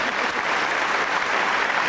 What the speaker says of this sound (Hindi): और किया तो जरा जोरदार ताली।